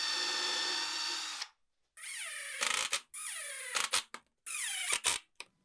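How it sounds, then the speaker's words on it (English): A power drill whirs in several short bursts, winding up and down between pauses, as a countersink bit drills pilot holes, then brief higher-pitched spins and clicks as screws drive into a table saw jig. "use my countersink bit to drill some pilot holes and then follow that up with screws"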